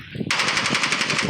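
Rapid automatic gunfire from a weapon in a shooter video game, a loud continuous burst of evenly spaced shots that starts abruptly after a brief quieter moment and carries on steadily to the end.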